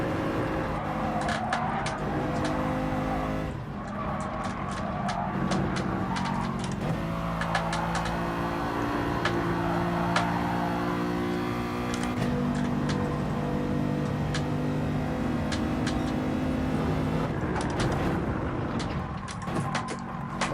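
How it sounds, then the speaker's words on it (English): Peugeot race car in Gran Turismo Sport at Dragon Trail, a steady loud engine drone with layered whining tones from several cars, punctuated by sharp ticks and clicks as it accelerates in close racing. "He's going to get in front because he's got a lot of acceleration in that Peugeot."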